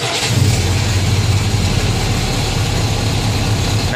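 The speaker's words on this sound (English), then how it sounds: "Now that was a cold start." A Willys Jeep engine runs loud and rough just after a cold start, with a dense steady rumble and slight throttle variation throughout and no talking.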